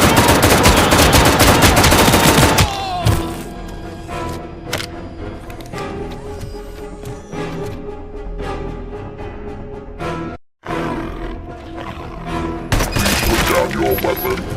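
ED-209 robot firing in Robocop Rogue City, a loud, dense burst of automatic gunfire up front giving way to continuous rattling shots and cracks, with a brief pause before the fire resumes heavily.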